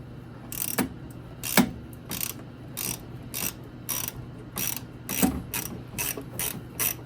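A ratchet socket wrench clicks in short bursts of sharp, close pawl ratcheting, repeated about a dozen times at irregular intervals over a low background hum.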